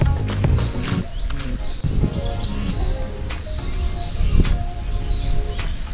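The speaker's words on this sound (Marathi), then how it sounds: "पूर्ण शांतता आणि पक्ष्यांच्या किलबिलाट आपल्याला या ठिकाणी ऐकायला भेटतोय" Forest birds chirp and tweet near the Aai Waghjai Devi temple at Mohpada, Badlapur, with bright, scattered calls over a steady insect-like hum and occasional low rustles, no talk.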